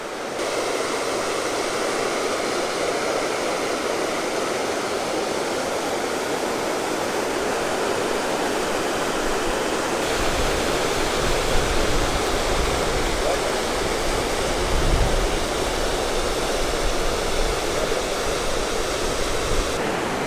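River water rushing through rocky pools at a shut-in, a loud, constant broadband roar up close that shifts slightly midway, with no clear voices over it.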